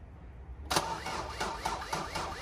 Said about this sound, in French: Il faut allumer la 1007 et faire aller le moteur